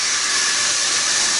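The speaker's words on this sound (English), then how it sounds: "It is going to sizzle, so as you heard." Fish sauce hitting browned, caramelizing sugar in a hot pan gives a steady, bright sizzling hiss that stays constant and close for a brief moment, with no voices.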